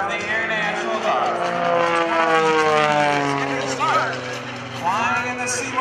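An MXS aerobatic airplane flown at a Rhode Island Air National Guard open house airshow, its engine droning steadily with rising and falling pitch sweeps throughout, heard alongside an announcer talking over a public address.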